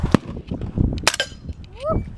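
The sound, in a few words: gunshot fired at a gun range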